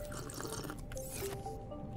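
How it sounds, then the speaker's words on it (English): Drinking water in Subnautica: Below Zero, a soft liquid gulping and squishing sound with light drips, steady over a low ambient game hum and no speech. "I'll drink that water."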